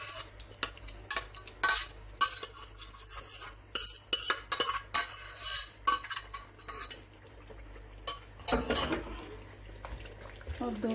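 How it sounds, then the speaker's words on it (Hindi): Spinach being stirred into a cooking mixture in a pan, giving repeated scraping and clinking strokes of a utensil against metal with soft wet rustling, fairly close, while a voice talks at times. "मिक्स करके इसमें पालक शामिल करते हैं।"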